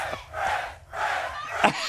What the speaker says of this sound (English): the crowd start chanting friends